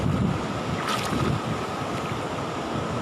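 Tidal flood waves surging at Tanjung Pakis beach, with constant wind buffeting the microphone and a continuous roar of surf and rushing water, loud and close.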